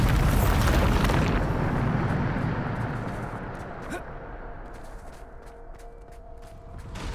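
A Bombarda blast goes off in Hogwarts Legacy: a loud, rumbling explosion roars at the start, then slowly decays over several seconds into crackling debris and faint clicks.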